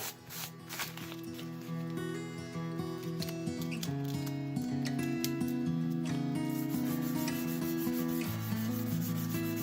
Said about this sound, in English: Here we are with the 800 grit dry sanding.